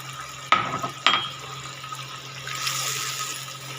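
Cooled boiled milk goes into a pan of bottle gourd cooked with mint leaves: two sharp clinks near the start, then a quiet hissing pour that swells briefly toward the end.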